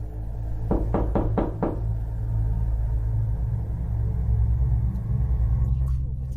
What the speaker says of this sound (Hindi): दरवाजे पर फिर से जोर जोर से दस्तकें हुई और दरवाजा कांपने लगा